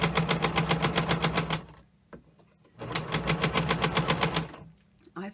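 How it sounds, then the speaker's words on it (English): A sewing machine stitches quilt blocks with a quarter inch seam in light pink thread, two rapid rhythmic runs of close, steady needle chatter separated by a short pause. "I'm going to sew them with a 1/4 inch seam"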